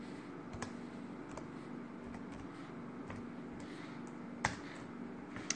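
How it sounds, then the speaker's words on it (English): Typing on a computer keyboard in a home kitchen setting, soft scattered key clicks with a few sharper taps, faint and fairly steady over low background hum. "I'm just typing that over here"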